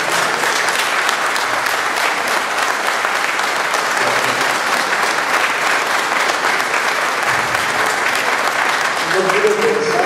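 A large audience at a social pastoral conference talk breaks into loud, sustained applause, a dense continuous roar of clapping with faint voices underneath.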